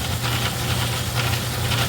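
A Craftsman 109 metal lathe runs steadily at its higher speed, giving a continuous mechanical hum with a low drone and faint rhythmic chatter. The sound is close and even, with no talking.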